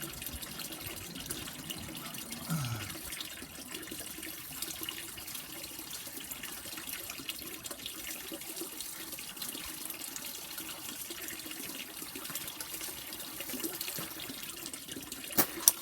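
Water runs steadily from a garden tap to fill a container for watering plants, a continuous close splashing flow lasting over fifteen seconds with small bumps near the end.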